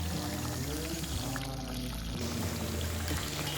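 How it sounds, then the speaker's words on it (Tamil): Cooking oil poured into a kadai pan for Chettinad brinjal kuzhambu, a steady close trickle and glug of liquid running for several seconds without pause. "முதல்ல கடாய் வச்சு எண்ணெய் ஊற்றிட்டு"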